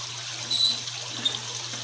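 A Frigidaire washing machine fills with water, giving a steady, soft hiss of running water under a low constant hum, with small splashes and no speech.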